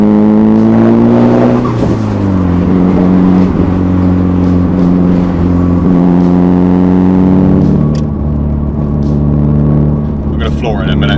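A Nissan GTiR engine revs hard and loud, pitch climbing and dropping through several sustained pulls, with a steady rumble underneath and no pauses.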